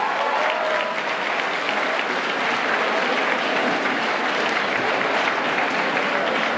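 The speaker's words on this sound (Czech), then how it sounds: "ještě jednou velký potlesk" A crowd at a high school graduation ball applauds continuously, with dense, loud and sustained clapping filling the hall without pause.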